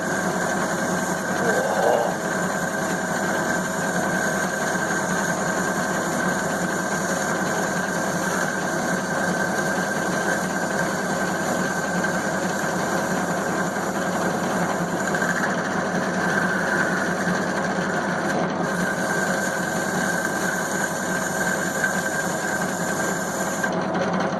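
A lathe machining an old axe socket into a tomahawk gives off a steady, loud mechanical hum with a constant tone and a faint cutting hiss, continuous for the whole stretch without talking.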